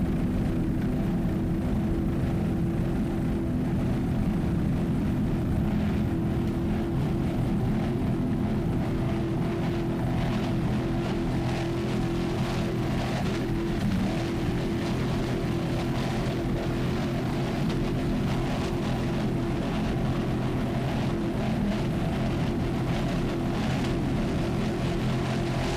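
A 38-foot Fountain race boat with Vortec power running on the water at a race: a loud, steady engine roar throughout, with wind buffeting the microphone and no speech.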